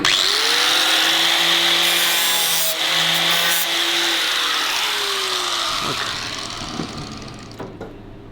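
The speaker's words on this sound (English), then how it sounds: "Plug the grinder in, always handy." Angle grinder worked against sheet metal on a 1942 Cadillac Fleetwood during fabrication, a steady loud whine with a rising and falling pitch for about six seconds, then winding down into scattered clanks and taps.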